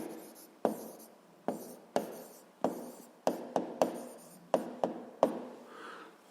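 Pen or chalk writing on a surface during a 7th-grade physics lesson: about ten short, sharp strokes and taps in an irregular rhythm, close and fairly quiet, with no talking.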